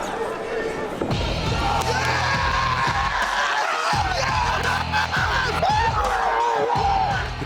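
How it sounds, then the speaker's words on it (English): A packed crowd at a fight event in New York roars, with loud overlapping yells, whoops and cheers that stay dense and close for the whole stretch, punctuated by sharp thumps and bursts of excited shouting. "The crowd goes crazy"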